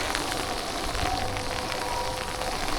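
Steady rain falling and pattering on surfaces during a ride on a Yamaha Cross Core RC e-bike, a dense even hiss throughout with no talking.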